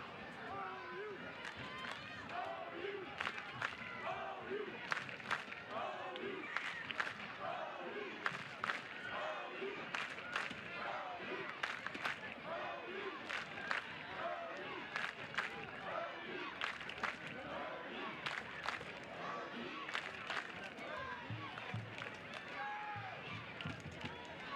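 Restless stadium crowd at a women's college soccer match in Norman, Florida Gators versus Oklahoma Sooners, a continuous murmur with scattered shouts and bangs, steady and fairly distant throughout.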